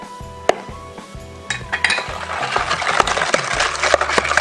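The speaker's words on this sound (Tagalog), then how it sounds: "Mix lang po natin ng maigi hanggang sa matunaw po yung ating sugar at asin" Sugar and salt being mixed by hand in a bowl for bahog-bahog, with irregular close clinks and scrapes of a utensil against the container that grow busier and steadier toward the end, with no talking.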